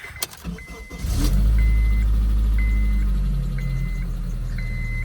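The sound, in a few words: Dodge Challenger Hellcat engine cranking, starting and revving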